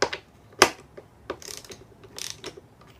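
A torque wrench set to 22.5 foot-pounds clicks and ratchets on an NP249 transfer case case bolt, a few sharp close clicks followed by quicker bursts of ratcheting.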